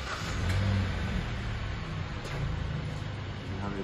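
Car engine running near a diagnostic scan tool, a steady mid-range idle hum with a slight rev near the start, continuous and moderately close.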